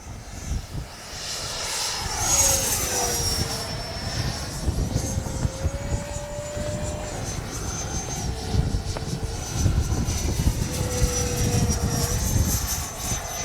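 A Freewing 80mm JAS-39 Gripen RC jet with an electric ducted fan flies past at an airfield, its whine rising and shifting in pitch as it sweeps around loudly and steadily overhead.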